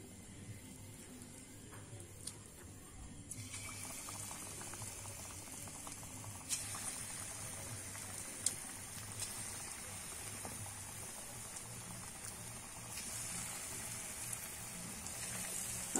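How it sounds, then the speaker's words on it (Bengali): Banana fritters fry in hot oil, a steady bubbling sizzle that swells from about three seconds in and then holds at a constant level, with a few faint clicks scattered across it. "আমি এইভাবে সব বড়াগুলো ভেজে নেব।"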